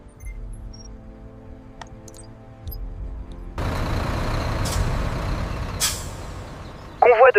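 Specialised heavy trucks pulling in at a factory entrance, with a loud hiss of air brakes releasing and rumbling engines close by, plus a brief beeping at the end.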